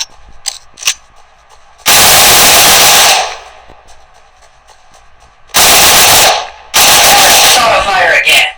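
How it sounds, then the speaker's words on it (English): Automatic weapon fire in the shooter game Cyber Hunter comes as loud, dense bursts of rapid shots, three sustained volleys separated by quieter gaps with faint game sounds. "Along with manual fire, you can also use auto fire to help you in battle."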